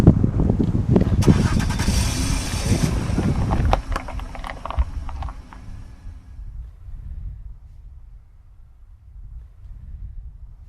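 A truck engine in a video game starts up and drives off, a loud broadband roar for about four seconds that then drops to a lower, steadier rumble with some wind-like noise.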